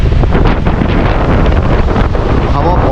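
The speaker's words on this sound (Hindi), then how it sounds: "हवा बहुत तेज चल रही है और नदी की आवाज़ भी बहुत तेज आ रही है" Strong wind buffets the microphone beside the rushing Parvati river near Tosh village on the Kheerganga trek in Himachal, a loud, gusty roar over a constant surge of water, up close.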